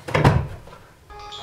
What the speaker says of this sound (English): Can you shut that door better?